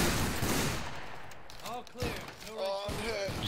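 Musket company volley fire in the video game Battle Grounds III, a loud crackling fusillade of many shots at once followed by scattered echoing reports, with voices calling commands over the battle.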